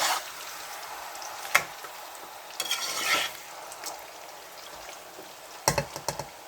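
Fish and anchovies fry in a pan with a low, even sizzle, broken by a few sharp clattering bursts as the pieces are stirred or lifted.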